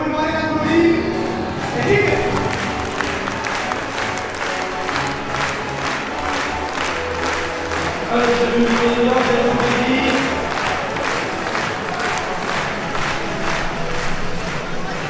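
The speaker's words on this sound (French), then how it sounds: "Je vais vous demander d'applaudir." A crowd at an agricultural show cattle ring claps rhythmically and cheers, steady, dense and close, with voices and shouts mixed into the sustained applause.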